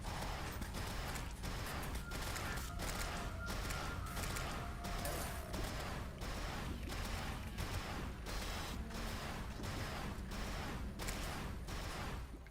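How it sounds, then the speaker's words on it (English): Rapid, steady volleys of projectile fire from enemies in Terraria with the Calamity Mod, a dense stream of repeated clicking, crackling bursts over mechanical noise for the whole stretch. "And they still shoot projectiles."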